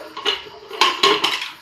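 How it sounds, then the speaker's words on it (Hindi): Pots, a pressure cooker lid and metal utensils clatter in a home kitchen after cooking pumpkin with chana dal, with several sharp bright clanks bunched near the end and no talking. "कुकर खोल रहे हैं"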